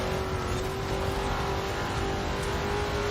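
A teammate's car in Forza Horizon 4 accelerates hard, its engine roaring loud and close in a steady, sustained drone with rising pitch and no voices.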